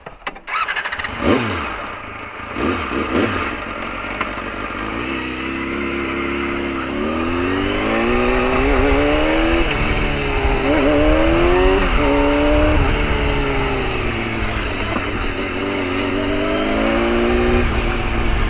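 Motorcycle fitted with adjustable rear sets starting up and ridden, a close engine that revs in rising and falling sweeps through the gears, loud and continuous with no talking.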